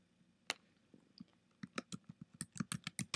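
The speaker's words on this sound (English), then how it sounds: "So I'm going to type in, clicking on text," Keys clatter on a computer keyboard, with one sharp click followed by a steady run of about a dozen evenly spaced, close-up keystrokes alone with no talking.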